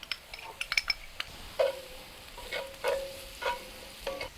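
Garlic added to a hot pan of chicken for a pasta skillet, frying with a soft sizzle under repeated scraping and clinking of a utensil against the pan, close and moderately quiet, no voices.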